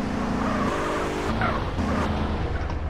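A motorcycle rides in GTA San Andreas, its engine droning with shifting pitch and brief tire-skid screeches, loud and continuous with game noise behind.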